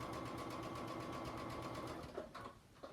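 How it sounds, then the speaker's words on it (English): A sewing machine runs in a steady fast rhythm while stitching a Christmas tree mug rug, close and clear, then stops briefly and starts again for back stitching. "I'm just stopping at those 2 marks, back stitching, and then going through"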